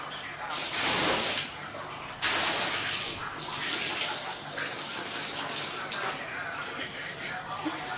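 Running water gushing steadily while a carpet is washed at home before Eid, a continuous close splashing flow with occasional surges, as a person talks over it.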